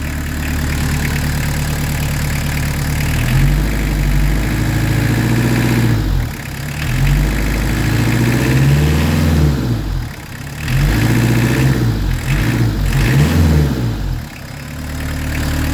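A Peugeot 205 turbo diesel engine with a PES injection pump runs close by, idling with a low rumble and rising in several brief revs before settling back to idle.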